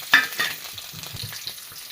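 A large onion frying in a little oil in a Kerala cheenachatti, giving a soft continuous sizzle with an early sharp spatter and a few light scrapes of a spoon, close and quiet, no talking.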